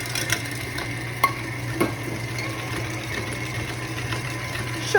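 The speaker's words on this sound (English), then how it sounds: "All in a standing mixer." A stand mixer beats browned butter and sugar: a steady low motor hum with a faint rhythmic churning and a few light clicks, close and continuous, no talking.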